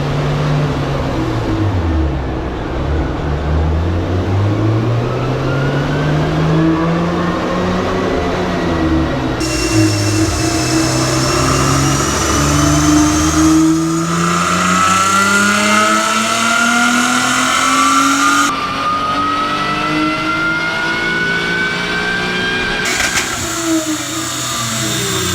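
A supercharged Acura TL engine revs hard on a dyno, pitch climbing and dipping through repeated pulls with a whining supercharger tone rising in sweeping bands, loud and close with no talk.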